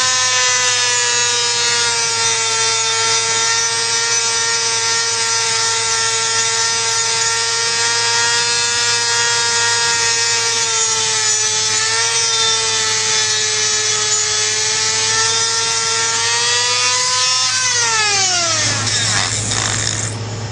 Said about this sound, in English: we grind down the boss using a Dremel